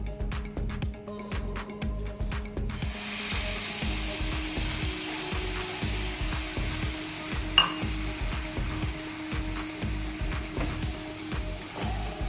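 Milk simmering with grated fresh coconut in a pan while making coconut ladoo, giving a soft continuous sizzle with rhythmic scraping and stirring strokes of a spoon against the pan, close and steady throughout.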